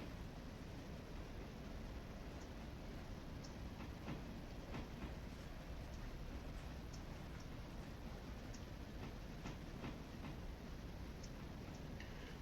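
A train rolling along the track in the railroad simulation game Railroader, a steady rumbling roar with faint rhythmic clicks and clunks from the wheels, continuous and even with no talk.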